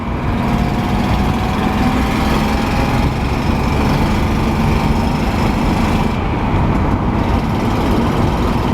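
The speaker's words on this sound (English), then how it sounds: "you're going to have to work out what cylinders misfiring bad" Datsun 240C engine running rough with misfiring cylinders, a dense, steady drone with an uneven, ragged texture throughout, close and loud with no talk.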